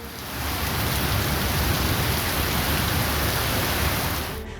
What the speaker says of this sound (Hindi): बुधवार को सीकर में तेज हवाओं के साथ सुबह करीब 1 घंटे तक जोरदार बारिश हुई।